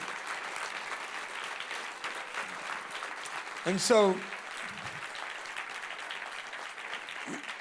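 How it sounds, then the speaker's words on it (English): An audience claps continuously at a talk, a soft, even spread of applause from a distant crowd; a voice cuts in briefly midway. "If y'all quit clapping, I have more time."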